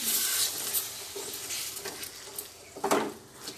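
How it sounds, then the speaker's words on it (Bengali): Boiled rajma cooking water is poured into a hot frying pan, hissing and sizzling with soft stirring and pan clinks, a louder burst of sizzle near the end, no talking. "এই ফ্রাইং প্যানের মধ্যে রাজমা সেদ্ধ করা যে জলটা, সেটাকে ফ্রাইং প্যানে দিয়ে"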